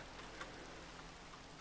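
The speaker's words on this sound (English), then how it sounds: "And it's raining, that's great." Rain falls at night in the Minecraft video game as a steady, faint hiss with a few tiny patters, brief and even throughout, with no voices.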